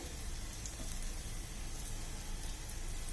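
Onions sizzle in hot oil in a pan for a baby's khichuri, giving a steady, close, even hiss of frying that continues throughout with no talk.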